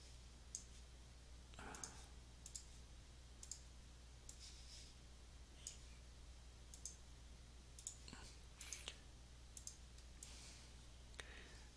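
Sharp computer mouse clicks come one by one at an irregular pace while a route is stepped along on Google Maps, close and crisp over a faint low hum.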